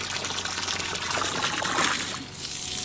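Water sprays steadily from a hose or shower head onto a pony, a continuous hissing splash with a brief dip in intensity near the end.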